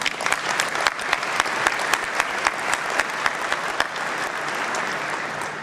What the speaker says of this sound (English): that's a recognition that's worthy of our round of applause